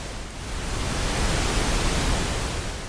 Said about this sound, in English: you can really hear where the rumble is kind of coming into its own